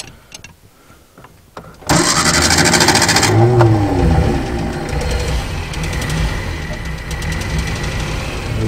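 A 1956 Standard 8 saloon car engine cranks briefly after near silence, catches at once and settles into a loud, steady running note close by, with no choke needed.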